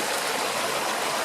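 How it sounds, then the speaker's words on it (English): A natural stream flows outdoors, its steady broadband rush of water running continuously and close, with no voices over it. "As you can see, I've come to a natural water source."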